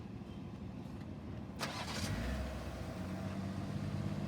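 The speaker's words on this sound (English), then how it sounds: "and your car will start for you." A BMW car engine is remote-started from the key fob: a quiet background, then a sharp crank burst as the engine catches and settles into a steady low idle hum.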